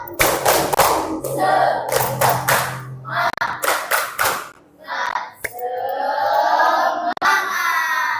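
A class of children performs a rhythmic spirit clap, sharp claps landing in quick patterned bursts with short pauses, mixed with children's chanting voices in a classroom.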